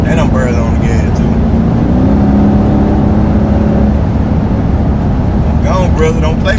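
A car engine revving and pulling hard during an impromptu street race, a steady loud drone with a rising whine in the middle, while someone talks over it throughout.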